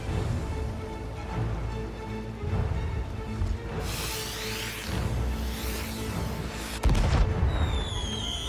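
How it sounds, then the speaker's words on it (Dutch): Fireworks bursting in an online multiplayer video game, a series of booming pops and crackling bursts over a steady game soundtrack, with a louder burst near the end and faint whistles trailing after. "Oh, een mooi vuurwerk."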